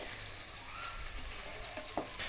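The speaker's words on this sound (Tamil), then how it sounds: "ரெண்டும் ஆட் பண்ணி ஒரு 1 minute நம்ம ஆயிலில் நல்லா ஃப்ரை பண்ணி எடுத்துக்கணும்" Onions and ground spices frying in hot oil in a pan for Hoskote-style chicken dum biryani, a steady soft sizzle with faint crackles throughout, close and alone with no voices.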